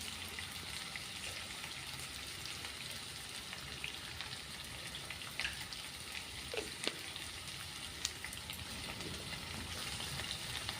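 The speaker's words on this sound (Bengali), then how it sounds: "দেখুন ফোড়নটাও ভাজা হয়ে গেছে সুন্দরভাবে, আলুগুলোও ভাজা হচ্ছে" Bay leaf and cumin tempering with potatoes frying in oil in a pan, a soft steady sizzle and crackle with a few small spits and clicks of stirring throughout.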